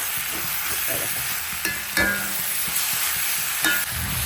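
Onion, green chili and tomato fry in a pan with a loud continuous sizzle, while a spoon scrapes and stirs several times close by, with no talking.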